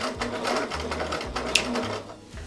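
Domestic sewing machine stitching during free motion ruler quilting, rapid close mechanical whirring in several short bursts with brief pauses between them.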